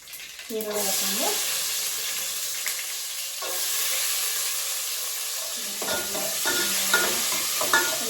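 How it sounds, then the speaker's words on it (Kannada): Curry leaves and onion fry in hot oil for a bottle gourd sambar, a bright steady sizzle with a thin hiss, punctuated by bursts of spoon scraping and stirring near the start and again toward the end. "ಮತ್ತೆ ಕರಿಬೇವು ಹಾಕೊಂಡು ಈರುಳ್ಳಿ ಹಾಕೊಂಡು"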